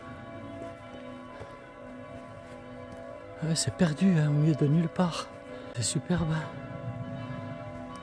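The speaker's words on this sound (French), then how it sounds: "On aperçoit le couvent à travers les branchages. Ouais, mais on l'entend surtout, les cloches." Convent church bells ring in a secluded rural spot, sounding at moderate distance as a few clustered strikes, while someone talks quietly over them.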